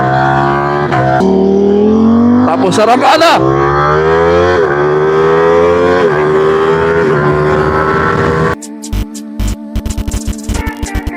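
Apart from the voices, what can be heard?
motorcycle engine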